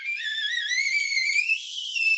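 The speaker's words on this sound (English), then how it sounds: "all that gas is forced to escape out of that tiny, tiny hole in the lid, which makes a whistling noise" A tea kettle whistles steadily as steam is forced through a tiny hole in its lid, one clear sustained tone that wavers slightly and climbs a little in pitch, alone and moderately loud.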